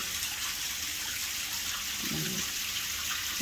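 Water splashing and falling steadily into an outdoor fish pond, a constant hissing wash of moderate loudness with a brief low gurgle midway and no voices.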